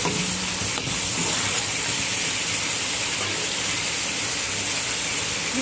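Spice paste sizzling and being stirred in oil with a little water in a pan, a continuous hissing fry with occasional spoon scrapes, close and steady.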